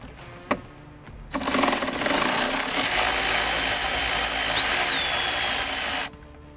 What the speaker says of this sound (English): take out this one Torx bolt right here with a T40